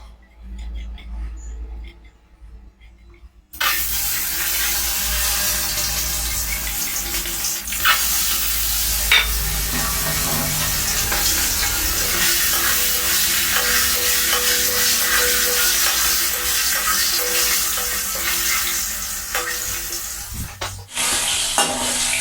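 Eggs frying in hot oil over a lowered flame for an egg and potato dish: after a quiet start, a loud, steady, close sizzle sets in and continues to the end with only a brief dip near the finish.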